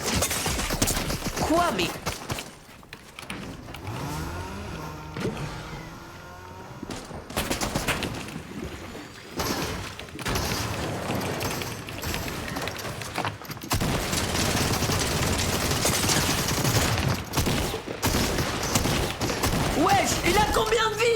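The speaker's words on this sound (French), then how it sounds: "Ça tire derrière là. Et ça tire d'où là?" Rapid gunfire bursts in a Fortnite match with Simpsons-season content, loud and near, coming in repeated volleys throughout with brief lulls, while a player speaks excitedly over the shooting.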